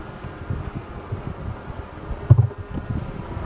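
Dense, low humming buzz of many honeybees in a hive close by, steady throughout with a few soft bumps and rustles.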